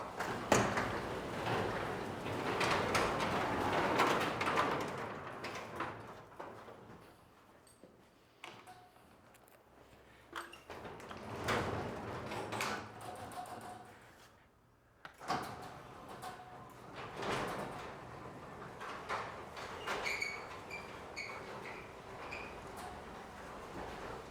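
A garage door rumbles and rattles through a long opening run, pauses with a thud, then moves again, with mechanical clanks and a steady opener motor hum.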